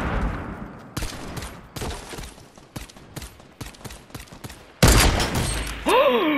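Gunfire in a shooter video game with a sniper headshot: a series of loud, sharp gunshots at roughly regular intervals, then a heavier burst and electronic whooshing effects at the end.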